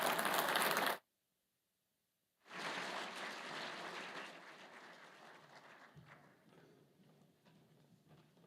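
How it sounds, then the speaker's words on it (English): Audience applause at a political leadership conference in Pennsylvania, a loud burst that cuts off abruptly, then after a silent gap a second wave of clapping that gradually fades away. "let's have another round of applause for our elected officials."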